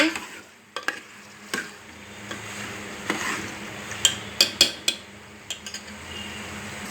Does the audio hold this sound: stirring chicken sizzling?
yes